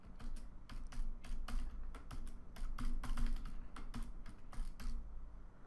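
Typing on a computer keyboard while setting up a new Android Studio project, with a steady run of close, crisp key clicks and short pauses and no voices.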